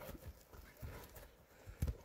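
A fast horse being walked and turned, its hooves clopping in a loose rhythm of soft, distant thuds, with a louder thump near the end and no clear talk.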